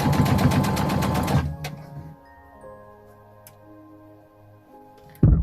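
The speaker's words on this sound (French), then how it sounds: "Et je couds mon tissu normalement" A sewing machine stitches baby overall fabric in a rapid, even mechanical chatter for about a second and a half, then stops, leaving faint ticks and a quiet hum before a short thump at the end.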